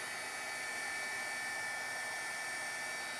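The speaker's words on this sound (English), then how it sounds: "I'm going to just take my heat tool and dry this." A heat tool blows hot air to dry wet watercolor on a card, a steady, even rushing hiss heard alone throughout at moderate volume.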